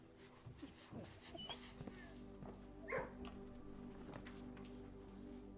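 Dogs in a kennel in a survival video game, giving a few short barks and whimpers over a steady background hum, with some speech around them.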